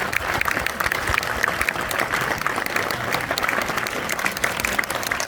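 Sustained applause from a live audience at a stage event in France, steady and dense across the whole span, close and loud with a faint crowd murmur underneath.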